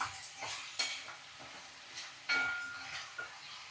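Brinjal and hyacinth bean stir-fry being turned in a tempering of oil, with quiet intermittent spoon scrapes and clinks against the pan over a faint sizzle, a few sharper strokes standing out.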